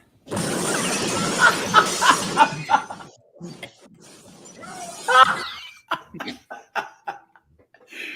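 Glass shatters loudly near the start with a sharp crash and tinkling fragments, followed by coughing, sputtering and chuckling in quieter scattered bursts.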